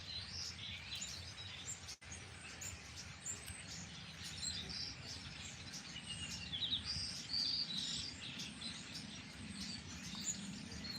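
Birds chirp and sing outdoors, bright repeated tweets over a steady background hiss, no voices.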